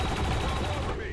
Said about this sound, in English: The turret's hitting me.